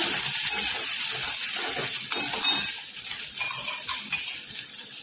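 A steady, loud sizzle of garlic and ginger paste frying in hot oil for vada pav, with a spoon scraping and clinking against the pan as it stirs.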